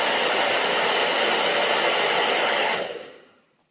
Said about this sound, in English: this hairdryer is quite a powerful one